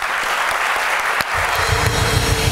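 Studio audience of a Turkish TV talk show applauds to welcome guests, a dense, loud wash of clapping that carries steadily throughout, joined partway by low rhythmic music beneath.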